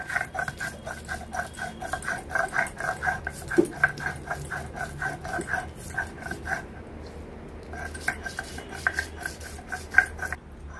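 Shrimp shells being ground into a paste on a stone, a steady rasping, scraping rhythm of repeated strokes at close range, with no talk.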